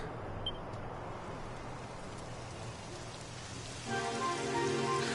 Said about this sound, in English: It would have to go and start raining